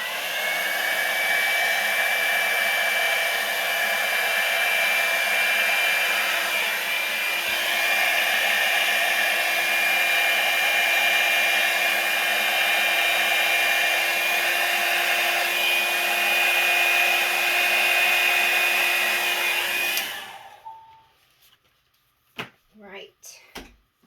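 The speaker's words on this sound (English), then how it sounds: "I am definitely going to use my little Revlon hot air tool and we'll start blowing this out." A small Revlon hot air tool blows out wet paint on a t-shirt with a loud, constant whooshing hum for about twenty seconds. It cuts off abruptly, followed by a few faint knocks and handling sounds.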